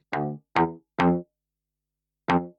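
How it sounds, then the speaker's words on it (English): Main synth bass from Output's Substance preset, four punchy harmonic-rich notes, three in quick succession then a pause before the fourth, each with a sharp attack and short decay, alone without talk. "This is a preset from Substance from Output."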